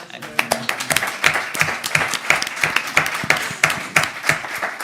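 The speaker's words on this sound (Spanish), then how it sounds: "Un aplauso." Audience at an international digital law congress in Spain applauds, a steady run of crisp, dense hand claps at close range lasting several seconds, with some voices mixed in.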